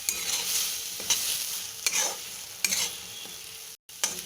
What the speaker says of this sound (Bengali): আর একটু নাড়াচাড়া করে নামিয়ে ফেলবো আমাদের কাঁচকলার চোখলা বাটা